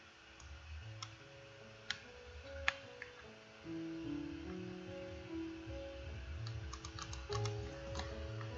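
Typing on a computer keyboard in a text editor, a quiet stream of close clicks and taps running steadily, with faint clicks at first and denser keystrokes later over soft background music.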